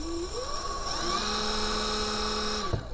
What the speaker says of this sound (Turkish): Ben hızlı çevirdiğim zaman altı bayağı sağlam durmasına rağmen motor yerinden kalkıyor.